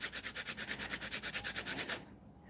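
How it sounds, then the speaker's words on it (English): Electric nail drill cleaning the cuticle area of pink acrylic nails, a fast rhythmic buzzing rasp pulsing about eight times a second, close and steady, then stopping abruptly near the end. "Then I'm going to go in with the drill, and I'm going to clean the cuticle area."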